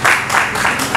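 Brief burst of audience clapping at a talk on the maritime industry, close and loud, with a few irregular surges of hand claps over about a second.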